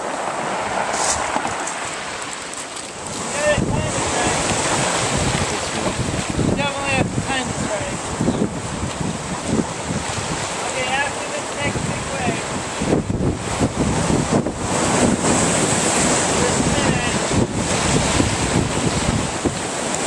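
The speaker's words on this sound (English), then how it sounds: "now we're at a really nice sandy beach here" Ocean surf rolling onto a sandy beach on the Olympic coast, a broad continuous wash of waves with heavy wind buffeting the microphone, fairly loud and steady.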